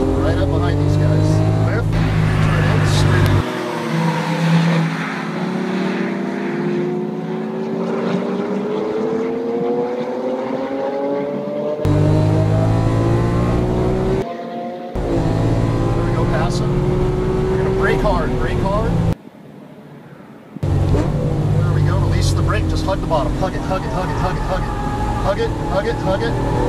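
A Lamborghini Aventador accelerates hard around a race track in Las Vegas, its engine rising in pitch through repeated gear pulls, loud and close from inside the car, broken by brief cuts, with an instructor talking over it.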